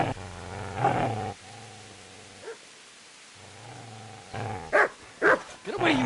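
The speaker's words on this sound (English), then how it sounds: "Get away, you mutt!" A dog growls and barks in the medieval video game Kingdom Come, with snarling growls at the start, a quieter gap, then sharp, close barks near the end.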